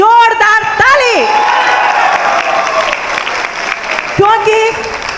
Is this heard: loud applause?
yes